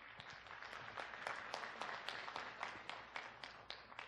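An audience at an arts festival in Kumamoto City applauds, with steady, fairly faint clapping spreading across a hall for several seconds without voices.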